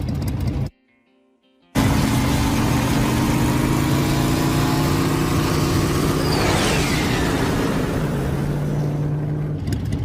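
A motorcycle engine idles steadily and loudly through an anime scene, its low hum cut off by a second of silence, then resuming with a brief swooping whoosh partway through.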